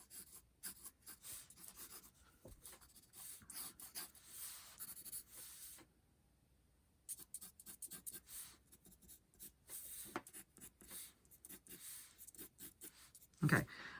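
A pen scratches graffiti letters onto paper in quiet, close strokes, short rubbing scribbles with a brief pause midway, faint and without talk.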